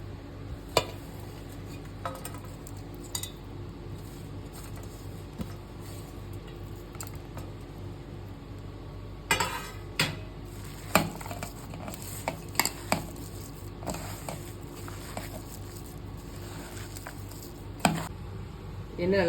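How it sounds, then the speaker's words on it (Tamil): Ground lentil batter for paruppu vadai is mixed with chopped onion and green chili in a vessel, with sporadic wet slaps and utensil clinks against the bowl over a quiet background hum. "அரைச்சி வந்த பருப்பில் கட் பண்ண வெங்காயம் பச்சை மிளகாய் போட்டு மிக்ஸ் பண்ணிக்கலாம்."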